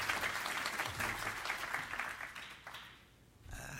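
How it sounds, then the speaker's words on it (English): Applause from an audience welcoming a speaker at a talk, a thick wash of clapping that tapers off toward the end before a short burst picks up again. "So a round of applause,"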